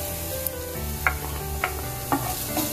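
Garlic cloves sauté with softened onion in a pan as a low, steady sizzle runs under a few distinct spatula scrapes, close by and spaced about half a second apart, alongside a faint musical backing.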